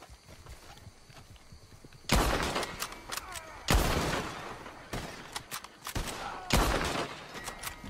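Revolver and shotgun fire rings out in a Red Dead Redemption 2 posse fight, with several loud, sharp shots arriving at irregular intervals, each followed by a long rumbling echo, over a quiet background.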